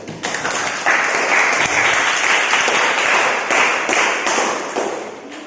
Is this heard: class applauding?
yes